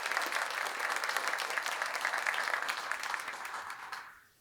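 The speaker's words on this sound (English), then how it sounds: "another round of applause for Mr." An audience at a public art dedication at Terrell Recreation Center claps steadily in a dense, sustained burst of applause that fades out near the end.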